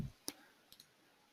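A computer mouse clicks on a play button: one sharp, close click followed by a quick double click, all quiet against a silent room.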